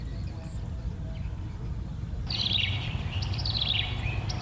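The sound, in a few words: Greater painted-snipe in Vietnam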